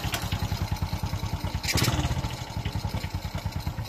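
A Honda XRM 125 motorcycle engine runs freshly re-bored, close up, with a steady rapid idling putter and a brief louder rev near the middle; no voices.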